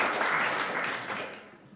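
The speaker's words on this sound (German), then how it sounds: "Das ist auch ein Applaus wert." Studio audience applause during a televised discussion show, a dense wash of clapping that is fairly quiet and fades out over its final half second with no talking.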